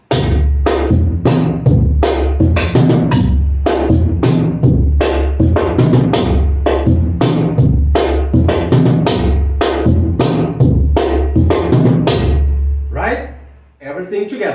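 Surdo drums playing a samba reggae groove with a clave pattern, loud booming low strokes and layered rhythmic hits repeating steadily for about thirteen seconds before stopping, followed briefly by a voice.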